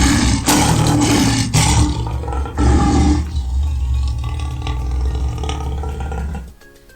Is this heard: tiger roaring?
yes